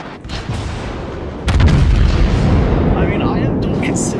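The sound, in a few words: battleship Musashi firing aft turret guns in video game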